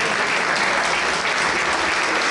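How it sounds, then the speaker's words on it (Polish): A crowd applauds at an award ceremony for an extreme mountain half marathon, with loud, dense, continuous clapping filling the whole short stretch. "także wielki brawa dla niej."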